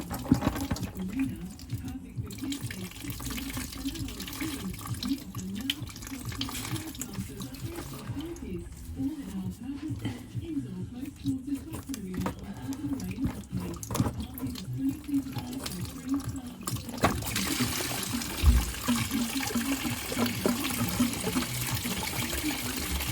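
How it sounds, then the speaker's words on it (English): Coolant draining from the front hoses of a Porsche 997 into a container, a soft continuous trickle with faint clinks and handling noises, fairly close and quiet. "We'll let that drip for a little while, dry off underneath there."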